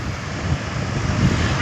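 Cool early-morning wind blowing in Chennai, a steady, loud, breathy rush with gusty swells and no voices.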